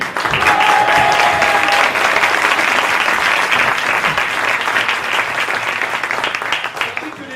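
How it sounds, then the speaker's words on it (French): An audience at an improv theatre show applauds a performer with loud, dense clapping that holds steady and tapers slightly at the end, with a few voices calling out over it. "un tonnerre d'applaudissements pour Lucie"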